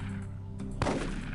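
In UFO Aftershock, a soldier's weapon goes off in a single sharp, close report, followed by a short rumbling decay over a steady background hum, with no talking.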